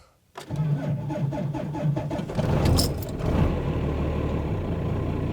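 A Cummins diesel pickup truck, a barn find, cranks and catches, then revs up with a rough, rattling diesel roar before settling into a steady, loud idle.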